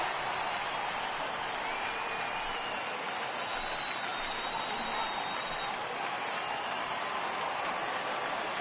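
Steady, dense crowd roar from a baseball stadium in the MLB The Show 18 video game, fans rising and cheering for a full-count pitch, continuous and moderately loud throughout with no talk over it.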